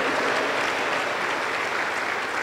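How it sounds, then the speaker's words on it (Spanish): Church congregation applauding loudly and steadily during a Sunday service, a dense, continuous wash of clapping from start to finish. "Fuerte aplauso para el Señor Jesús."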